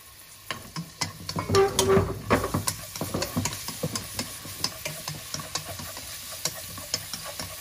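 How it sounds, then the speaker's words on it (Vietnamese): Garlic and shallots fry in oil for a Thai seafood hot pot, a steady crackling sizzle with frequent sharp pops and stirring clatter, close and alone without voices. "Sau đó chúng ta bỏ cái phần tỏi và hành phi. Chúng ta vào phi trước."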